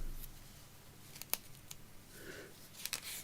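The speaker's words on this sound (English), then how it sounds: "let's just cut a bit off that" Scissors snip through a piece of silk in a few quick, crisp cuts, close and quiet against a soft room background.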